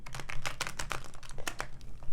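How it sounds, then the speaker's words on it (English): Large, oversized tarot cards are shuffled in a rapid run of crisp papery riffles and slaps, close and continuous. "these cards are so hard to shuffle"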